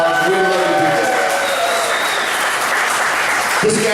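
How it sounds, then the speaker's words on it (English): Concert audience applauding at a hillbilly band's show at Knott's, steady dense clapping throughout with cheers and a voice speaking over it near the start and end. "please give yourselves a big round of applause"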